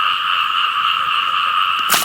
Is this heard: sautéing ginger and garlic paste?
no